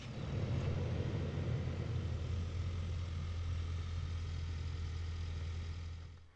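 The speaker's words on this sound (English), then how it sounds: "First, lock the vehicle and then double press the remote start button." A 2019 Ford Ranger XLT SuperCrew FX4 engine, started by remote, settles into a steady low idling rumble, close and constant before fading at the end, with no speech.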